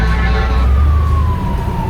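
Loud, close wail of a fire truck siren, a single sustained tone sliding slowly downward over a heavy low rumble of traffic.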